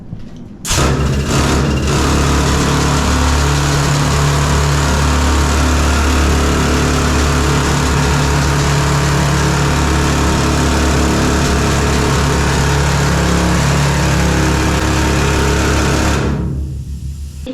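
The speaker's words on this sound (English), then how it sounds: "Jackleg drill." A jackleg rock drill at Britannia Mine Museum roars at full power, a loud, dense mechanical hammering drone that starts abruptly and runs steadily for over fifteen seconds before cutting off.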